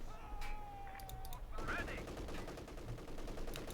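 Continuous gunfire and machine-gun bursts from a Company of Heroes 2 battle between OKW and UKF forces, layered rattling shots over a steady battle din with a caster talking throughout.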